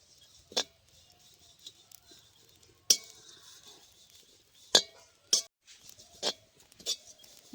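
Neem flowers dry-roasted in an iron kadai over a village wood stove, heard as sparse sharp scrapes and clinks of a spatula against the pan, spaced irregularly over quiet crackling.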